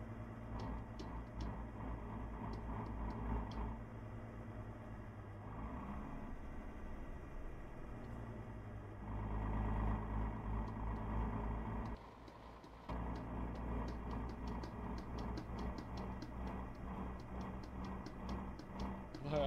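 A Mercedes Axor 3240 truck in Euro Truck Simulator 2 gives a steady engine and exhaust drone, dipping briefly as the throttle is released and swelling again when it is pressed. A faint ticking runs over it and no one talks.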